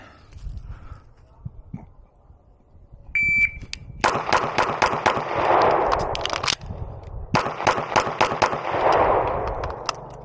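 Beretta PX4 pistol firing ten shots in two quick strings of sharp, loud cracks with short pauses between, separated by a brief lull, ringing on an outdoor range.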